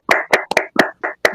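An online audience applauds over an open mic, sharp close hand claps in a quick uneven run of about seven beats, loud and alone with no talking.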